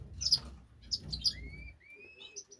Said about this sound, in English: In here we've got 7 cock canaries.